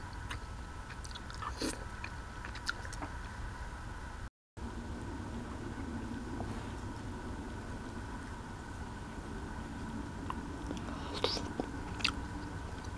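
Soft, close chewing and mouth sounds of someone eating semolina porridge topped with cherries and cherry juice, quiet and steady over a faint background hiss, with no talk.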